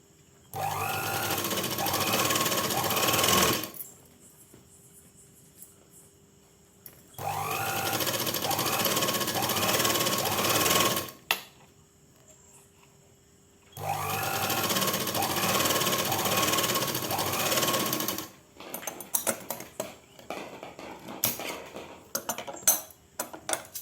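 A sewing machine stitches canvas into a folded salwar pant leg in three steady bursts of rapid stitching, each a few seconds long and separated by pauses. Faint clinks and handling clatter follow at the end.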